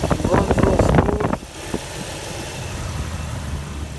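The engine of a 2004 Jeep Wrangler LJ Unlimited idles smoothly and steadily. A person speaks briefly over it at the start.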